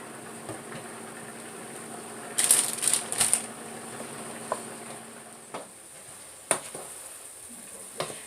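Chopped garden vegetables for a chunky spaghetti sauce stirred in a pot, with a short run of scraping, rustling bursts midway, a few scattered soft clicks after, and a faint low simmer between them. No talking.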